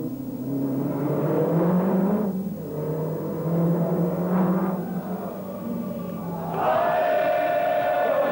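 Peugeot rally cars race up into the hills above Monte Carlo during the 1985 Rally Monte Carlo, with engines droning and revving at mid distance under a general crowd murmur, and the pitch rising near the end.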